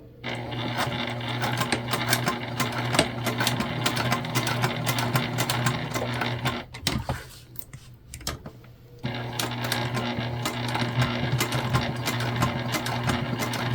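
Sewing machine stitching across the top of a fabric candy bag, a fast steady mechanical whir with a pause in the middle before stitching resumes, close and clear with no talking.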